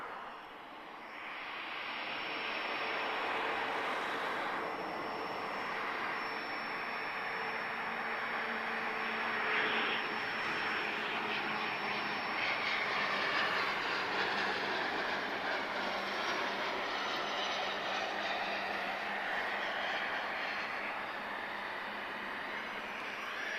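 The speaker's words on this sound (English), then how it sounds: "we have an A330 arriving much quicker than I expected" An Airbus A330-200 heavy jet, a converted former TAP cargo aircraft, arriving at Lisbon Airport: a steady, fairly loud jet roar with a sustained high whine, holding level throughout without talk.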